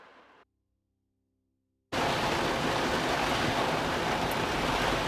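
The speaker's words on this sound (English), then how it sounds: "It is pouring out." Heavy rain pours outside in a sudden, loud, unbroken roar that starts after a short quiet gap and holds steady to the end.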